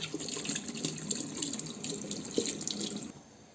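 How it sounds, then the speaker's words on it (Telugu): Tap water runs steadily into a bathroom sink during face washing, with small splashes and drips over a continuous gush that cuts off near the end. "సో ఇప్పుడు నేనైతే వాష్ చేసుకుంటున్నాను"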